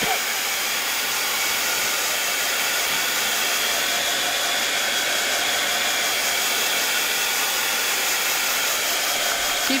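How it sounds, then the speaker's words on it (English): A heat gun blows hot air onto paint in a journal, giving a loud, continuous, even rushing whoosh that holds steady throughout. "Keep your heat gun moving if you haven't used one before"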